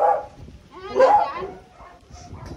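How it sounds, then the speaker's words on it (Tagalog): A dog barks a couple of times nearby, short sharp yaps with a whiny edge, in a quiet setting. "Ay, may aso."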